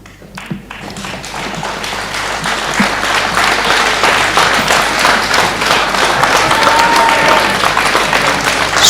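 Audience at a closing ceremony bursts into applause after a trophy presentation, starting from a few scattered claps and swelling into loud, dense, sustained clapping from a large crowd that keeps building to the end.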